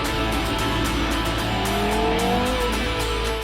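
A Porsche Carrera GT supercar is driven fast, its engine roaring continuously and loudly up close, pitch rising as it revs through acceleration with steady wind and road rumble.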